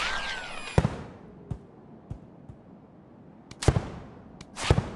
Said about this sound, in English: I'm gonna quickly use a firework and get over to our 5th stash